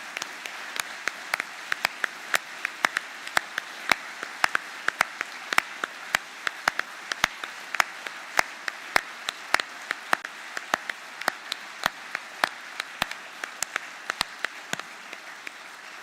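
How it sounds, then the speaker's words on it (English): Audience applause at a party conference: a steady patter of many separate claps, crisp and moderately distant, rolling on for about fifteen seconds before thinning out near the end, with no voices over it. "Please join me and give them a huge round of applause."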